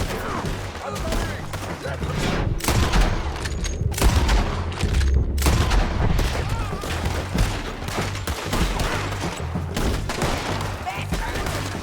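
Gunfire in the video game Red Dead Redemption 2 rings out in dense, loud volleys of overlapping shots and booms across the whole stretch, mixed with game noise and speech.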